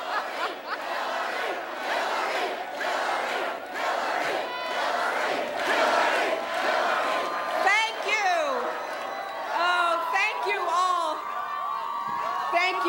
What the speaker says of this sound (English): Let's listen in to what Hillary Clinton has to say there at a rousing crowd there at Roosevelt Island, New York.